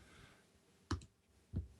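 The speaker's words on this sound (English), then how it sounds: "Typing on the thing." Typing on a computer keyboard comes through as two sparse, sharp key clicks close by, separated by a pause, in an otherwise quiet room.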